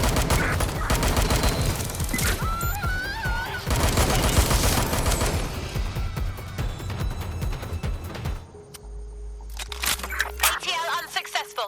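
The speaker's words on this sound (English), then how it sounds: "We got shots fired!" Gunfire in the video game Watch Dogs: Legion, a dense burst of rapid shots layered with game music and effects, loud and busy throughout, with voices heard in the mix.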